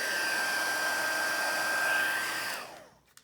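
A heat gun blows a steady, loud roar with a whining tone while heat-setting clear embossing powder on a die-cut leaf, then switches off and spins down near the end.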